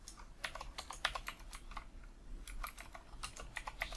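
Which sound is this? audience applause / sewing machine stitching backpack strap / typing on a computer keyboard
typing on a computer keyboard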